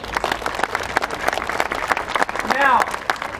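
Audience applause at a Sakura Matsuri cherry blossom festival gathering, a crowd clapping steadily and fairly loudly throughout while someone speaks over it.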